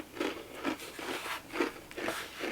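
Crunchy bites and chewing of a homemade brownie studded with Reese's Pieces, at a Peruvian meal, in several close, soft crunches at an irregular rhythm.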